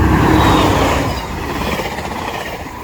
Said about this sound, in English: The final train this night was a northbound coaster